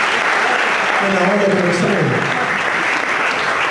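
A concert crowd at a live show in a Thessaloniki club applauds the guitarist, loud dense clapping throughout while someone speaks briefly over it.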